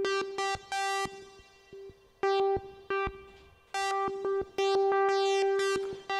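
Moog One synthesizer with its LFO in sample-and-hold mode, giving a repeating tone whose timbre jumps in abrupt random steps, in short choppy notes and longer held bursts, clean and moderately quiet.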